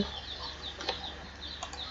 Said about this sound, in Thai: เราจะไปหาไก่กันนะครับ ไก่เขาเป็นสัตว์ที่หาง่ายที่สุดแหละ